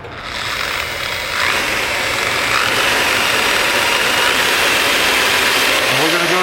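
A rotary polisher with a 400-grit pad loaded directly, no cushion, spins up to about 2,500 RPM on stainless steel, a loud steady whine and broadband roar that builds and holds throughout.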